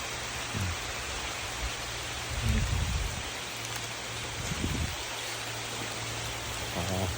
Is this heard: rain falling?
yes